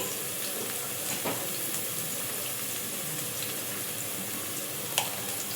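Minced meat keema fries with a pinch of salt in a pan, giving a steady, dense sizzle with soft crackles and a brief louder pop near the end, no talking.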